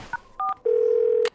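A telephone is dialed in a cartoon. A couple of short tone beeps are followed by one long steady tone, all clean and close with no voices.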